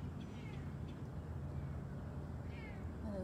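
A bobcat meows several times, faint and somewhat distant over a steady low background hum, its calls short and rising.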